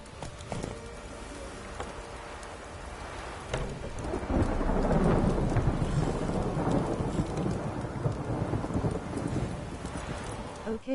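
Heavy rain pours in a thunderstorm in The Witcher 3, building into a dense, loud roar with low rolling thunder that swells about a third of the way in and holds.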